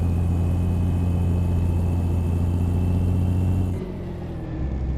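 A Freightliner FLC truck engine runs steadily at close range, a smooth continuous diesel drone that drops to a softer idle near the end, with no talking.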